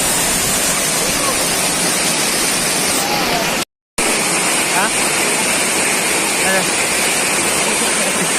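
Heavy, steady roar of Chamadka waterfall in the rainy season fills the scene, broad and constant, with a brief dropout partway through and faint voices beneath the rush.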